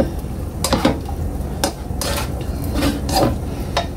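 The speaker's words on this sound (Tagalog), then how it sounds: "i-mix ko na dito para magkalasa yung ating broccoli" Broccoli being mixed with mushroom sauce in a pan, giving repeated scraping and clinking stirs of a utensil against cookware, close and fairly loud, with a soft sizzle underneath.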